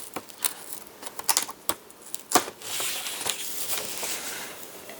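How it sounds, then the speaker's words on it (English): A taped-shut cardboard box holding an A3 light pad is cut open up close, with sharp scattered clicks and snaps followed by a rougher, sustained rasp of tape and cardboard tearing. "This one's actually taped shut, so I'm gonna have to get this cut open"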